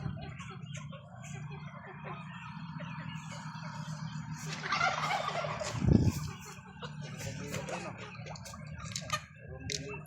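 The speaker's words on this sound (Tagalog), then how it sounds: "Feed the chickens now." Poultry being fed on a farm with ducks and chickens, busy clucking and gobbling calls throughout, with a brief scuffle near the middle and someone talking faintly.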